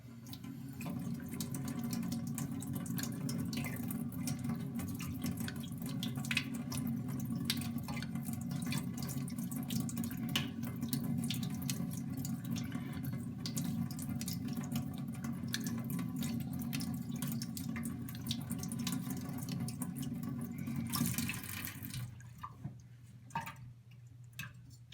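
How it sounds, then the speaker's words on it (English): Steady running water from a tap during hand honing of a straight razor, a continuous broadband rush held at even loudness for over twenty seconds before cutting off near the end. "Let me turn that water up."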